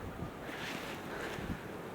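Steady outdoor wind rushing and buffeting a microphone, a continuous roar with gusts swelling and easing, no voices.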